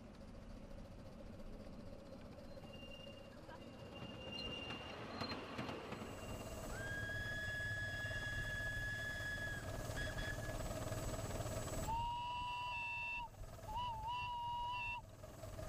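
A 7¼-inch gauge garden steam train runs along a hilly garden circuit, its rumbling wheels and clatter joined by drawn-out metallic squeals and whistling tones that rise and shift as it rounds the track.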